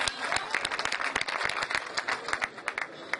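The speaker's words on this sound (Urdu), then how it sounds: "آپ سب کی تالیوں میں جناب سلیم لدکانی۔" Audience applause for a poet at a poetry recital in Hasilpur, Punjab: a dense, steady patter of many hands clapping together, loud and close, sustained for a few seconds with no talking.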